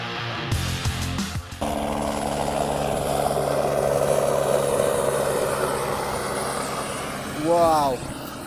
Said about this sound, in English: Chopper, LAPD, hovering over the beach here.